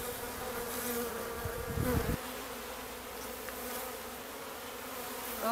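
Honeybees buzz steadily around a backyard beehive, a dense droning hum with a few insects passing close by, moderately quiet, with no talking.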